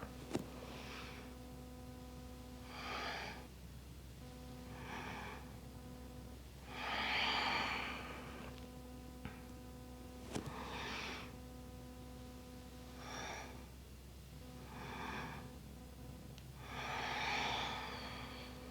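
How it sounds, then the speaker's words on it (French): Soft, slow breathing during a yoga session for strengthening and relieving the back: about eight gentle inhales and exhales in a regular rhythm, close and quiet over a faint steady background tone. "On inspire. On expire."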